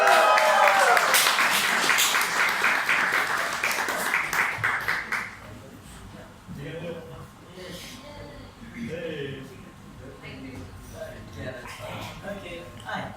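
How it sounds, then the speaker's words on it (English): Applause from a spoken word poetry event audience fills the first five seconds, loud and dense, then drops away into quieter room noise and murmuring voices. "We give a very warm round of applause to Atiq."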